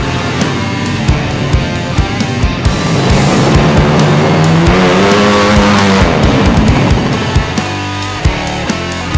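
Loud, close drag bikes rev and scream past at a drag bike race held in front of a high school in Gorontalo, with rising engine whines, sharp revs and crackling bursts one after another.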